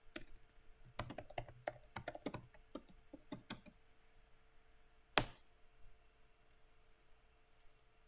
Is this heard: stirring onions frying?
no